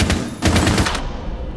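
A rapid burst of automatic gunfire fired through a wall in Rainbow Six Siege on the Bank map, loud and close, with about eight quick shots in a tight sequence.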